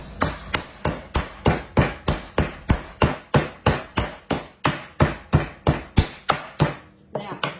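A meat tenderizer's flat side pounds a pork cutlet for fried pork cutlets, giving about twenty steady, evenly spaced thuds at close range, each a sharp smack with a short ring, before the beating stops near the end.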